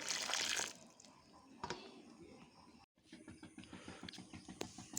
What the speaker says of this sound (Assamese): এতিয়া পানী অলপ ঢালি দিছো